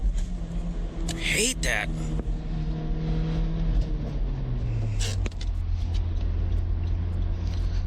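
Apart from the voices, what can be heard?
front-wheel-drive car accelerating in second gear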